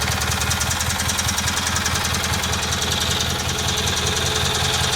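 A Kohler Magnum M18 engine on a Cub Cadet 1882 garden tractor idles after warming up, a close, steady, rapid knocking putter that stays even throughout.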